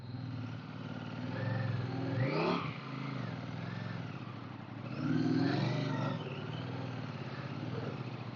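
A motorcycle engine revs hard under throttle in first gear on a rainy mountain road from Lohaghat toward Gungji, rising twice in strong, close surges over a steady running drone.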